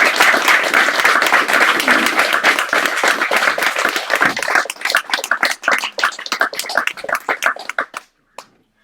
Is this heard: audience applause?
yes